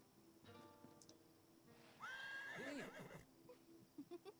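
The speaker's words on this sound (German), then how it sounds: "Ein Pferdchen." A horse neighs in the video game Satinavs Ketten (Das Schwarze Auge): one loud whinny rising and trailing off over a quiet ambient game background, with a few faint soft thuds before and after.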